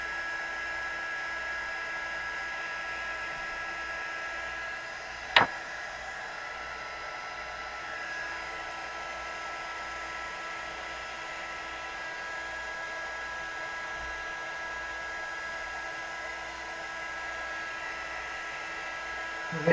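A hair dryer blows steadily to dry acrylic pour paint, a constant airy whoosh with a faint hum running throughout and one sharp click partway through.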